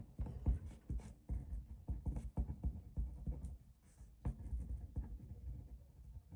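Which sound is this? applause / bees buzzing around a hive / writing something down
writing something down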